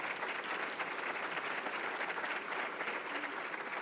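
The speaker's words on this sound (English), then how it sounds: "Give my faculty a round of applause for that, would you?" Steady round of audience applause at a university keynote address, dense continuous clapping from a large crowd filling the whole stretch at even loudness, with no talk over it.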